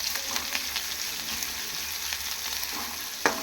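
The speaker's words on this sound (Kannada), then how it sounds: "ಇವಾಗ ಇದು ಎಣ್ಣೆಲಿ ಫ್ರೈ ಆಗ್ತಿದೆ." Crushed garlic and ginger paste frying in hot oil for khara pongal, a steady close sizzle running throughout with a brief utensil clink near the end, no voices.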